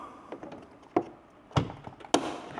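Plastic door handle link rod on a Fiat 500 being pushed into place, a series of sharp taps and clicks in the door, with three distinct snapping hits spaced about half a second apart.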